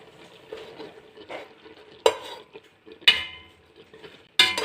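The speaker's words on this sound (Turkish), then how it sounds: "Kapalı bir yerde, çok kısık ocakta suyunu sala sala pişecek. güzelce eziliyor." Tarhana mixture simmering on a very low flame in a covered pot while being mashed, with soft bubbling and stirring scrapes broken by several sharp clanks of a utensil against the pot.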